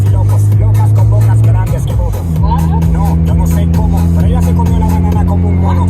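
A Honda Civic Type R with a VTEC turbo pulls away, its low engine drone steady then shifting as it drives off, with people talking over the engine throughout.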